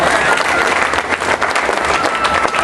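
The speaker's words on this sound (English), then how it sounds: "yes, you can applaud for everybody" A roomful of people applauds loudly and continuously, a thick wash of many hands clapping at once, with a few voices mixed in.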